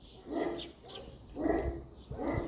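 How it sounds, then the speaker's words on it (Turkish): Several dogs in a hunting pack bark in repeated bursts, a few loud yelps coming close together over a steady low rumble, fairly near and with no talking. "Sürü geliyor yine köpekler avlamaya başladı."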